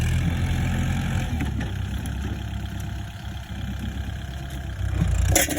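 A farm tractor works a Thai rice-field embankment while drainage pipes are laid, its engine running steadily close by with a heavy low rumble and a louder surge near the end.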